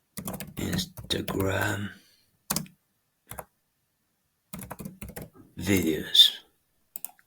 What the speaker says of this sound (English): here we type